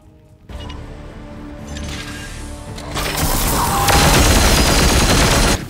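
Spread attack gunfire in Warhammer 40,000: Chaos Gate - Daemonhunters, a turn-based video game: a low rumbling build-up swells into a loud, dense barrage of shots and impacts that holds for a couple of seconds, then cuts off.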